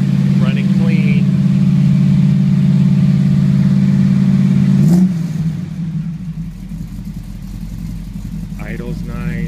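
A 1934 Plymouth engine runs at a loud, close, steady idle with an even low drone, then shuts off sharply about halfway through. Someone talks under the engine noise.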